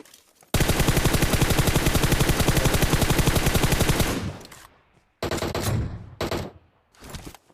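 Automatic gunfire in PUBG Mobile is aimed at a vehicle: a long, loud, rapid unbroken burst of shots, then several shorter bursts separated by brief pauses.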